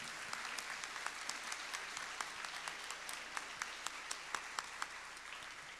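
Audience applause at a book presentation in a hall, a steady patter of many hands with a few sharper individual claps standing out, moderately distant and sustained throughout without talk.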